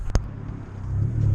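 Tuned Abarth 500 695 running while driving, a low steady engine drone and road rumble that builds gradually, with a brief knock near the start.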